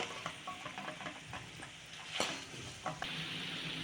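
Homemade hair oil ingredients simmering in hot oil, giving a soft, steady sizzle with small crackles and pops close by, heard alone without talk.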